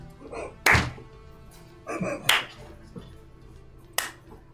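A few slow, deliberate claps ring out one at a time with long gaps between them, fairly close and sharp, with faint voices in the background.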